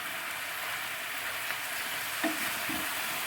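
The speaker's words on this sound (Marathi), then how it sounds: "थोडे भाजायचे, फिरवायचे कढईमध्ये" Tomatoes softening in a kadai for butter chicken make a soft, steady background sizzle, with a couple of faint stirring scrapes near the end and no voices.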